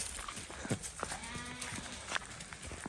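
Lambs bleat faintly a few times in a noisy village outdoor setting, short wavering calls scattered over a steady background hiss.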